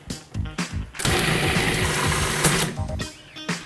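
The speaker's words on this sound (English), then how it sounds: "Put this bad boy in the food processor." A food processor grinding pasta dough ingredients starts after a second of clattering handling noise and runs loud and steady for about two seconds with a whirring mechanical drone, then cuts off and gives way to more clatter.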